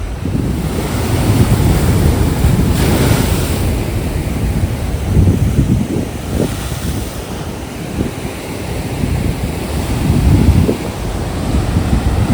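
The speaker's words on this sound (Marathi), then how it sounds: "पाणी स्पीडने आतमध्ये जात आहे आणि त्यानंतर मग तो हा फवारा उडतो पाण्याचा" Sea water surging into a narrow coastal rock gorge at Bamanghal, a natural waterspout, with loud continuous roaring surf and repeated swelling crashes, plus wind buffeting the microphone.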